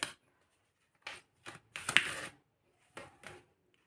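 Tarot cards are shuffled in a few short, crisp riffling bursts separated by quiet pauses, heard close up in an otherwise silent room.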